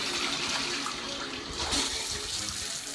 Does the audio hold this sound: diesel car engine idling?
no